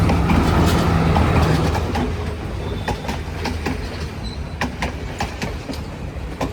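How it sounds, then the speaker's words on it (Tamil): Slow train rolling past near Wellawatte beach, a loud close rumble with rhythmic clickety-clack of wheels on rail joints, easing slightly as it goes by. "இப்போ வந்துக்கிட்டு இருக்கிறது ஒரு ஸ்லோ ட்ரெயின்."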